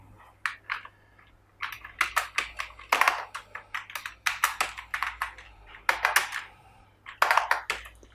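Rapid clatter of a computer keyboard being typed on while making a PowerPoint banner, bursts of close keystrokes separated by short pauses, with no talk.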